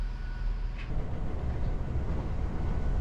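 A three-car GWR passenger train running through countryside towards Castle Cary, heard from inside as a steady low rumble and road noise that carries on for the whole stretch, with a faint brief squeal early on.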